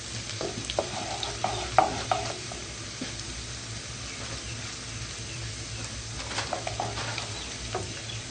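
Garlic and ginger sizzle and fry in oil in a kadhai, with a steady crackling hiss broken by occasional clinks and stirring scrapes.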